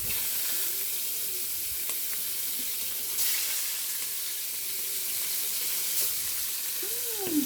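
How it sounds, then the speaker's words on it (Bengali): Fish frying in hot oil in a pan, with a steady, dense sizzle that continues evenly throughout, close and fairly loud, with a few faint background clinks and no voices. "হতে থাকুক, এটা ভাজা হতে থাকুক মাছ"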